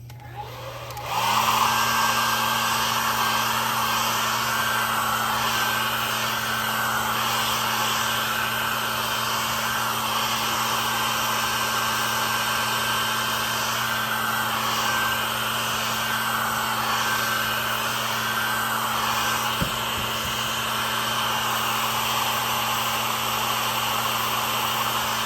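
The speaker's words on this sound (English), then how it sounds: "I'm gonna take the blow dryer right quick and just blow dry this really good." A blow dryer runs steadily for about 25 seconds, drying a freshly painted Easter craft plaque; a continuous, fairly loud motor whine and rush of air with no talking over it.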